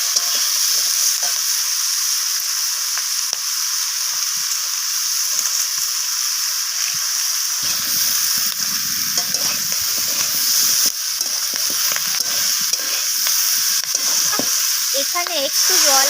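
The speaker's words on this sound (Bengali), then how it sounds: "তো সব কিছুকে একসাথে নাড়িয়ে চাড়িয়ে সবজির সাথে আমি কষিয়ে নিচ্ছি" Radish, kohlrabi and cauliflower stems with small shrimp sizzle steadily in a hot pan with cumin powder, a loud continuous frying hiss broken by scraping stirs of a spatula, with no talk over it.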